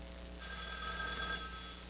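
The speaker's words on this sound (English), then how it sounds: "this pitiful, bullet-ridden example of a phone booth, ringing incessantly" A telephone rings inside a battered, bullet-ridden roadside phone booth, its bell trilling steadily for about a second against a low, constant hum of background noise.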